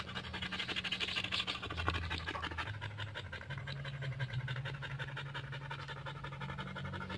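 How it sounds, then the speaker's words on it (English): A five-year-old husky pants close by in quick, rhythmic breaths, steady and fairly soft throughout, with faint scratchy movement underneath and no talking. "5 years old husky."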